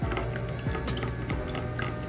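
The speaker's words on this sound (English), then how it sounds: "I know you just start pouring it in there" Vegetable broth pours into a cooking pot with a continuous splashing, gurgling trickle, close and fairly loud, with small drips and sloshes throughout.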